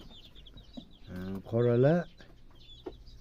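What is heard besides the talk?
chickens clucking, April chicks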